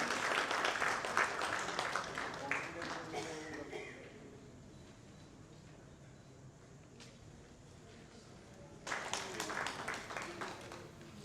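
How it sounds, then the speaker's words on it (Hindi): An audience at a book launch and mushaira in India applauds to welcome a guest, a burst of clapping that fades into a quiet pause before a second round of applause swells up near the end. "जोरदार तालियों से स्वागत करें संध्या पांडे जी का।"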